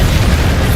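A single deep, loud explosive boom from the Bombarda spell in Hogwarts Legacy, close and heavy, filling the brief moment with low rumble.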